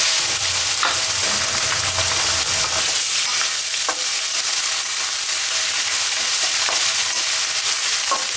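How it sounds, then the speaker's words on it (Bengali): Ginger and garlic paste frying in a pan for Old Dhaka style beef tehari, a loud, continuous close sizzle with occasional spatula scrapes and taps, with no voices. "ভাজা ভাজা হয়ে আসছে, এখন আমি আদা আর রসুন পেস্টটা দিয়ে দিব"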